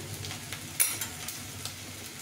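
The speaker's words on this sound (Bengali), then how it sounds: "এটা ভালো করে ভাজা হয়ে গেছে আদা রসুন পেঁয়াজটা" Ginger, garlic and onion fry in a pan with a steady, low sizzle, broken by a few light stirring scrapes and taps, close and fairly quiet.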